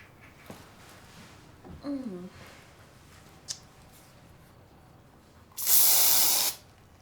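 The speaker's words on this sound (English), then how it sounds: "I shall spray the bathroom with the fresh scent of pine brie." After a few faint clicks and a short squeak, one loud, sustained pine-scented air freshener spray hisses for about a second near the microphone in a bathroom.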